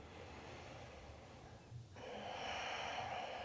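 A person doing a gentle hatha yoga stretch draws in a full breath, a soft airy inhale swelling steadily and holding near and clear for the last couple of seconds with no talking.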